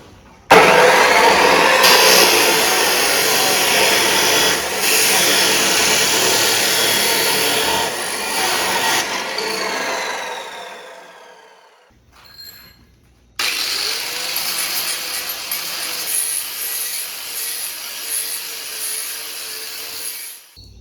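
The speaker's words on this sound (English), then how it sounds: "I'm going to cut the threaded ends off, so that way nobody can tell this is a piece of black pipe" Cutting the threaded ends off a black steel pipe with a power cutting tool: a loud continuous grinding whine that winds down and stops, then starts again after a brief pause, close by.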